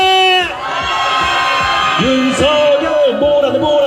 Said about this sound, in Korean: 함성 발사